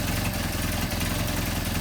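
A Mercedes 190SL engine with Solex carburetors idles from a cold start, a dense, steady mechanical chug with an even pulsing rhythm, close and continuous.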